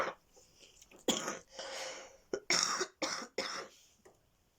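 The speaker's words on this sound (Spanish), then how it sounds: "después de dejar de fumar voy a estar con tos hasta el último día de mi vida" A former smoker coughs in a fit of about six harsh, chesty bursts over a few seconds. The bursts are fairly quiet, and a faint clear of the throat comes first.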